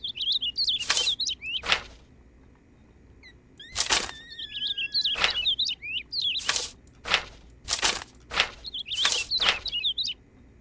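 A bird in the video game Nevermind chirps loudly and repeatedly, sharp high tweets in clustered bursts with brief whistled calls between them, close and insistent over a quiet background.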